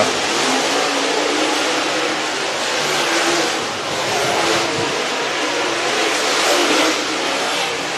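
Dirt race cars on hot laps at a speedway roar past continuously, engines revving and droning in a loud, unbroken wash of noise that swells and dips slightly as they circle.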